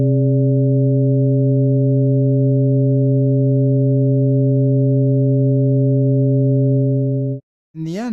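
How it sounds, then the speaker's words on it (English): Sustained inharmonic sine tones from additive synthesis in the Noxious synthesizer blend into a hollow, slightly dissonant drone that holds for about seven seconds, stops suddenly, and a voice briefly starts speaking. "you get unmusical inharmonic sounds like this"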